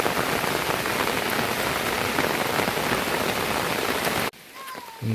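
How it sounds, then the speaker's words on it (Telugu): Heavy rain pours suddenly onto surfaces in a tribal village, a loud steady hiss that stops abruptly near the end, leaving quieter background sounds. "సడన్గా వర్షం రావడం చూడండి, మొత్తం తడిసిపోతున్నారు"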